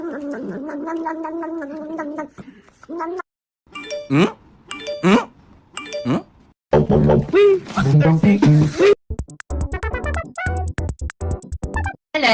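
A cat meows several times in short wavering calls among chimes and playful sounds, with music and bursts of other noise later; mixed, fairly close and loud.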